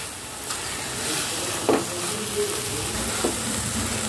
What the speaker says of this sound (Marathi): आणि आता हे मिश्रण कोरडं होईस्तोवर आपल्याला छान शिजून घ्यायचं आहे